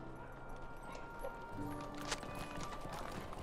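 Soft hooves clip-clop steadily at a walking pace amid low ambient game sounds, fairly quiet and continuous, in The Lord of the Rings Online.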